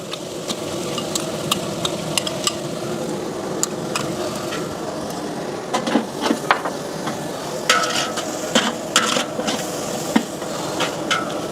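Garlic and ginger paste sautéing in a large biryani pot, a dense continuous sizzle with repeated scraping and knocking strokes of a ladle against the metal, close and fairly loud.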